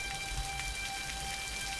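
Steady rain falls in the background, an even, continuous patter with faint low rumble and a few steady tonal hums, no voices.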